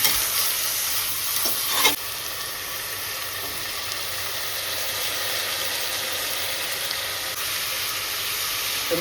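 Washed chicken sautés in a pan for biryani, giving a steady close sizzle with a soft scrape of stirring near the start, then a continuous even frying hiss that carries on alone.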